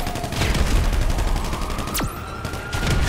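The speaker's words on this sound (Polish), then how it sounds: "Jak dziwnie się tym strzela" A laser handgun fires in the video game GTA Online, giving a burst of rapid shots with a sharp descending zap, over loud game ambience.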